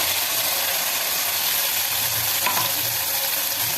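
Onions and freshly ground masala paste frying in hot oil for a sprouted green gram palya, a steady close sizzle and crackle with soft stirring scrapes throughout, no voices.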